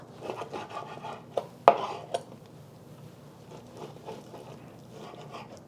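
Knife slicing through about two and a half pounds of pork into chunks on a board, a few soft close cuts and scrapes with one sharp knock near the middle, no talking.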